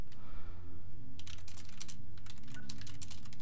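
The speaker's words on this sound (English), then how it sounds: "My keyboard isn't that great anymore." Typing on a four- or five-year-old computer keyboard that is wearing out: a quick run of close, crisp key clicks, starting after a second of low background hum and continuing irregularly to the end, with no talking.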